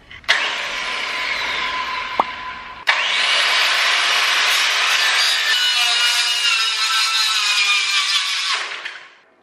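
A power saw whines through wood in two long cuts, starting abruptly, holding a loud buzzing drone, then winding down at the end.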